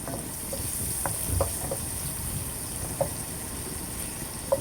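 Garlic fries in a shared pan, a steady loud sizzle that holds throughout, with a few faint clinks and taps of a utensil over it and no voices.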